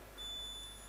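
A quiz buzzer at a state conference sounds one sustained, pure electronic beep for about half a second, fairly faint over a quiet room hum.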